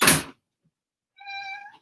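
A cat named Dottie gives one clear, drawn-out meow after a short burst of noise and a pause, close by and alone in a quiet room.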